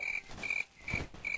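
Cricket chirps used as a comedic silence effect: short, bright trills repeating about every half second, three or four bursts, heard alone with no talk.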